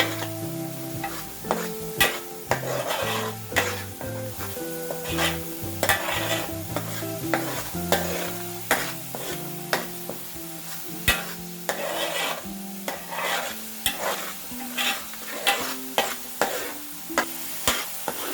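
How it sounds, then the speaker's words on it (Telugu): Spice paste of coconut and poppy seeds frying and stirred in a pan for crab curry, a steady close sizzle broken by repeated scraping strokes of a spoon at a fairly even rhythm, with no talk. "ఇది కూడా పచ్చి వాసన పోయేలాగా వేయించుకోవాలి"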